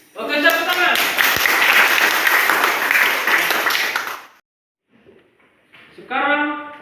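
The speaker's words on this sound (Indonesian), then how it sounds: "Oke, tepuk tangan." A classroom of students applauds loudly for about four seconds of dense, sustained clapping, then falls quiet before a voice speaks briefly at the end.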